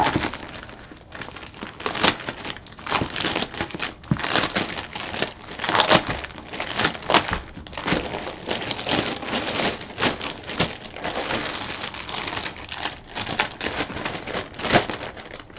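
Packaging from TheOtakuBox being unwrapped, with continuous close crinkling and crackling of plastic and paper, dense irregular bursts throughout with no pauses.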